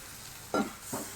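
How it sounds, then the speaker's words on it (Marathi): Hot water splashed into a pan of sizzling ground onion masala for a prawn curry, producing two short hissing bursts close by, the first louder, over low steady noise. "गरम पाणी टाकायचं"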